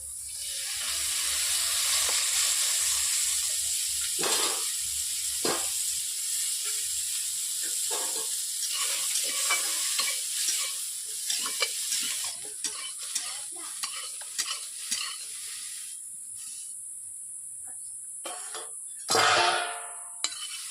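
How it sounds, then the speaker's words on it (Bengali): Potatoes fry lightly in oil with a steady, close sizzling hiss, broken by scraping stirs and clinks of a spoon against the pan. "আলুগুলোকে হালকা করে ভেজে নেব"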